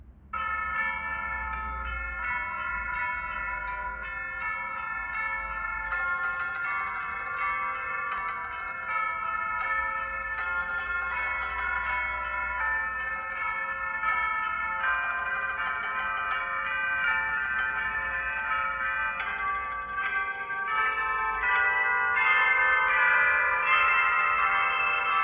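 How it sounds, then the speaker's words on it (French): A concert of bells rings out in layered, sustained metallic tones, with new strikes joining and overlapping steadily for about twenty-five seconds, growing slightly fuller toward the end. "Écoutons ce magnifique concert de cloches."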